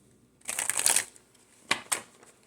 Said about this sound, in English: Let's give this another shuffle here.